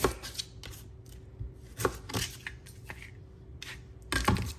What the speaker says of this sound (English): we can actually go ahead and cut off the root and tip